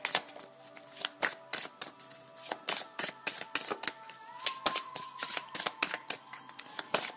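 Madame Indira tarot cards are shuffled by hand close up, giving a run of crisp, rhythmic riffling slaps repeating about twice a second.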